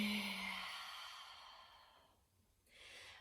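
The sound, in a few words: slow exhale during chair yoga breathing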